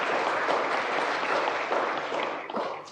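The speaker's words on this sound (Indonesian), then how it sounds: "Kita beri aplaus untuk teman-teman pemusik kita." A church congregation at a Pentecost service applauds the musicians with a dense, sustained clatter of many hands clapping that fades slightly toward the end.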